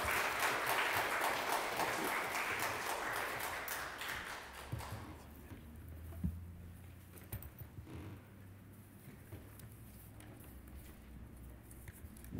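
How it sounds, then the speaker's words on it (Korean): A church congregation applauds to welcome a guest preacher, a dense, moderately loud clapping that fades after about five seconds, leaving scattered taps and quiet room noise. "따뜻한 환영의 박수로 맞이해 주시면 감사하겠습니다"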